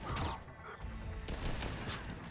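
Gunfire from a sci-fi video game, a dense fusillade of rapid shots and crashing impacts running loud and continuous through the whole stretch, with no voices over it.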